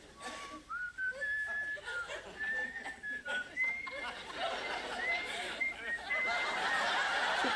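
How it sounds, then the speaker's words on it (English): Someone whistles a melody with wavering, sliding notes over background chatter and murmuring voices. "Would you like me to whistle for you, Archie?"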